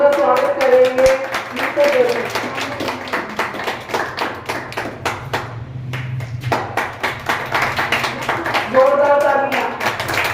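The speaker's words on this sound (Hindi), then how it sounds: "जोरदार तालियां।" A crowd gathered at an outdoor women's event in Radhashyam Park claps loudly in welcome, a dense patter of hands that runs throughout while a voice speaks over it at the start and end.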